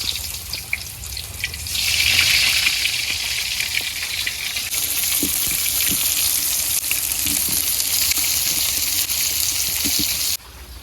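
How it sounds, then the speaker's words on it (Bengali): Eggplant frying in hot oil, a loud, close, continuous sizzle and crackle with small popping spits throughout. "তেল গরম হয়ে গেছে আমি বেগুন দিয়ে দিই"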